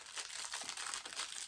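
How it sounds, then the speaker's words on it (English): Plastic bag rustled and crinkled while a small item is unpacked for painting projects, a continuous close crackling lasting the whole moment with no talk. "sorry about the rustling, oh, in a bag."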